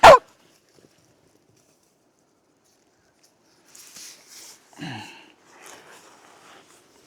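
A sharp, loud bark right at the start, then quiet before faint scattered whimpers or yips and soft rustling further off.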